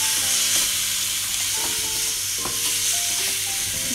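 Spice powders of turmeric, coriander and garam masala being stirred into mutton keema in a pan over a low flame, with a steady close sizzle and repeated spoon scrapes throughout, no talking.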